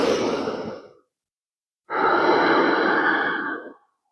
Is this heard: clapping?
no